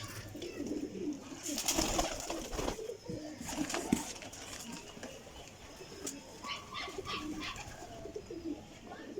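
Pigeons coo in a loft of netted-feather (jaaldar) birds, low repeated coos near and steady over soft rustling and a few higher chirps, with no voices.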